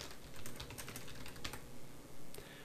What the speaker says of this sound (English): and I could start typing.